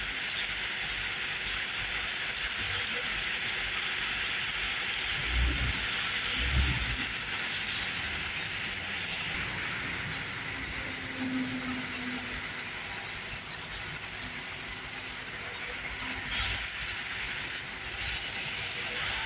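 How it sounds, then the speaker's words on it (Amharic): Steady heavy rain in Dubai hisses on for the whole stretch, a dense, even roar with a couple of low thumps early on. "ኃይል ጨመረ ዝናቡ ማለት ነው።"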